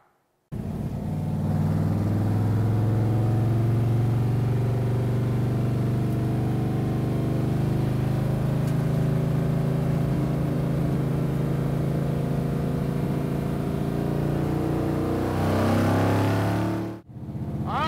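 A 1969 Ford Torino Talladega Boss 429 NASCAR muscle car with its engine running, a steady deep loud rumble heard up close from start to finish, with a brief louder rev near the end.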